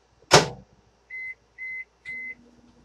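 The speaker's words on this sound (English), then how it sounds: "just put it in the microwave like this and microwave it for like another 30 seconds" A microwave oven gives three short, even electronic beeps after a sharp clatter, followed by a faint low hum as it runs.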